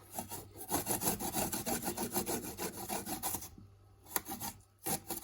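Fresh ginger being grated by hand makes close, rhythmic rasping strokes in a quick repeated back-and-forth pattern, then slows to a few scattered scrapes with short pauses near the end.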